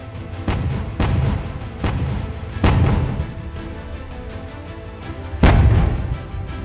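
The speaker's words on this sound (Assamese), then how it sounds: "ইউক্ৰেইন সেনাই টেংকৰে গুলীচালনা কৰিছে ৰাছিয়াৰ সামৰিক বাহিনীৰ ওপৰত" Ukrainian army tank fires in war-torn Bakhmut: several loud, heavy booms, each with a rolling tail, spaced a second or two apart and ending in a particularly strong blast, with no voices.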